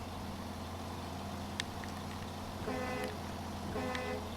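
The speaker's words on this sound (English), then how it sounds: "There's some honking." Car horns honk in a snowy driving video game: one short toot, then a second longer blast a moment later, over a steady engine drone.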